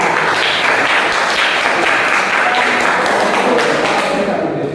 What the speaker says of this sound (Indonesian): Tepuk tangan untuk kelompok Al-Quran.